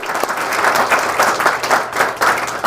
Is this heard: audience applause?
yes